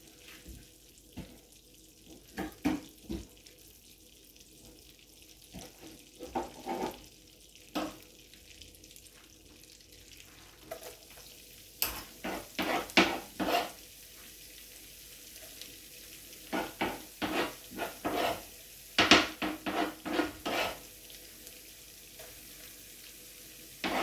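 Garlic sautés in melted butter in a pan, giving a soft, steady sizzle, with repeated scraping and stirring strokes that come in bursts.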